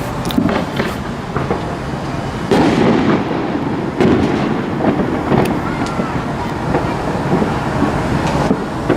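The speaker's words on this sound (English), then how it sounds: "Fireworks throughout the city of Detroit" Fourth of July fireworks over the city of Detroit, a continuous barrage of booms and crackling bursts, some close and loud, others distant, layered with wind rumble and no clear talk.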